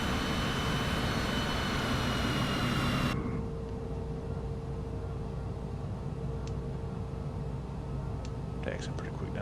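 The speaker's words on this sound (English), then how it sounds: "Taxiing pretty quick down the runway" An airplane in Microsoft Flight Simulator 2024 taxiing quickly down a runway, a loud, steady engine rumble with a whine that cuts to a lower, quieter drone after a few seconds, followed by a few faint clicks.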